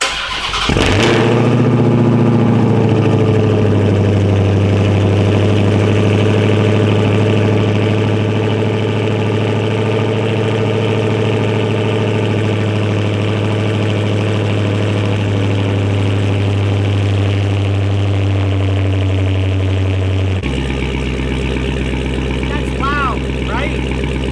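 A car engine cranks and catches on a cold start, then settles into a loud, steady, deep idle that drops to a lower rumble near the end.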